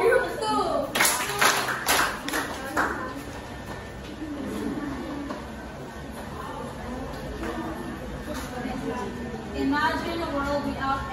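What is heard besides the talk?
classroom applause, three claps for group 2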